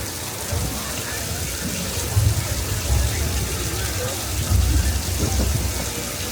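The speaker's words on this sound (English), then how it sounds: "Oh, now we got some rain." Simulated rain pours down during a Universal Studios Hollywood studio tour, a steady broadband hiss of falling water with low rumbling surges, like thunder, swelling twice.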